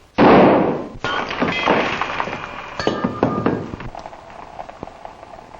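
Gunshots ring out in a fancy Oklahoma-style shooting contest: one loud, sharp blast opens, followed by several more cracks and clinking, ringing impacts that fade into a quieter, scattered tail.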